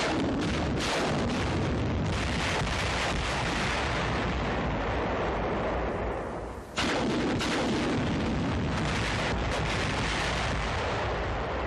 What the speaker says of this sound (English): The demolition rocket launcher, designated by the Ordnance Department as the T-40, mounted on an M4 medium tank.